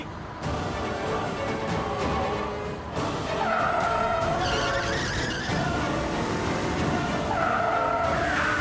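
A car skids to a stop with loud, sustained tire squeals, rising in bursts across the clip with engine noise underneath and no talk.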